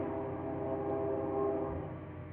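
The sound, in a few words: train passing in the background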